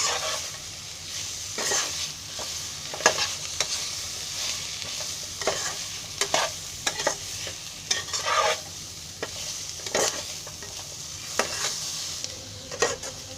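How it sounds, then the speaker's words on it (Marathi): Spices and tomatoes roast in a little oil for chicken korma while a spoon stirs them, giving a gentle sizzle under irregular scraping strokes, close and fairly quiet with no voices. "आता सगळं भाजून आहे ना चांगलं घ्यायचं, थोडंसं तेल टाकून."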